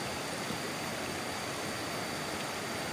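A river flowing through a valley at Puncak Asih in Cisadap, Ciamis: a steady, full rush of water, broadband and continuous, close and fairly loud with no voices.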